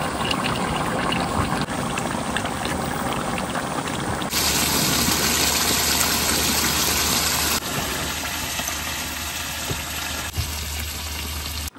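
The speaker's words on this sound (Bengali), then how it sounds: "হ্যাঁ এবার জল দিয়ে দেবো।" Water is poured into browned meat curry in a pan, a sudden loud rushing hiss partway through that settles into a busy simmering bubble, with no talking.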